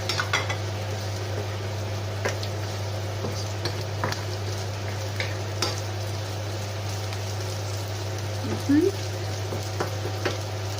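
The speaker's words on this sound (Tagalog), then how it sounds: "I will add now the chorizo." Chorizo frying in a pan, sizzling steadily throughout over a low constant hum, with scattered clinks and scrapes of a utensil stirring against the pan.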